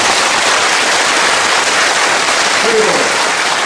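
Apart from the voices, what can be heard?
audience applause for war veterans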